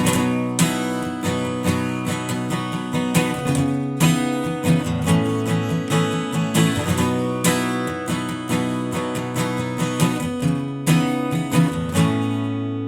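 Strummed acoustic guitar plays the middle eight of a song, a steady chord progression with rhythmic downstrokes and a few pauses, full and close, with no voices.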